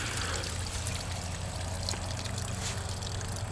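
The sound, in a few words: gray water draining from RV tank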